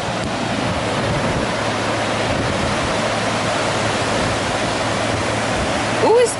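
Ocean waves breaking on a California beach make a steady broadband wash of surf, loud and continuous, with wind noise on the microphone and a brief sharp sound near the end.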